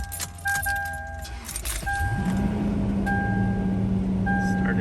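A Toyota AE86 engine cranks and catches after a jump start, settling into a steady idle, with key jingles and intermittent electronic chimes over the running motor.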